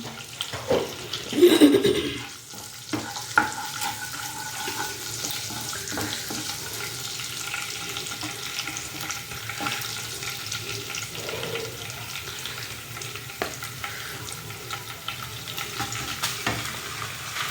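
Cumin seeds and dried red chillies fry in oil for a gooseberry (usirikai) pickle: a louder sizzling burst near the start settles into a steady, moderate crackle with occasional soft clinks, and no talking.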